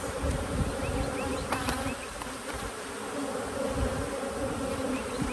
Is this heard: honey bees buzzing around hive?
yes